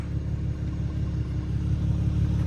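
Low, steady engine rumble of a Mercedes W210 car driving on its original wheels, heard from inside as an even, continuous drone with no other sounds.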